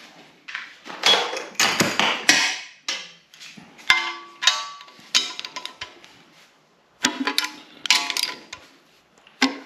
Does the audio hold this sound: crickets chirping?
no